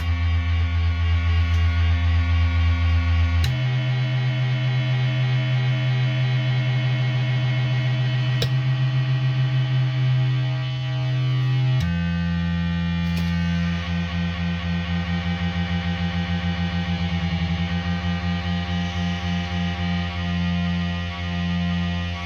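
A sustained, buzzing drone-machine synthesizer from a single output channel, rich in harmonics, holding steady tones that shift pitch abruptly a couple of times, with no voices.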